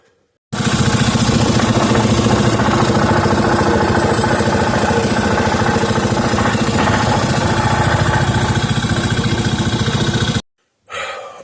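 A small 3.5 hp Briggs and Stratton engine runs loud and close for about ten seconds with a steady, rapid putter, then cuts out. It briefly restarts at the very end.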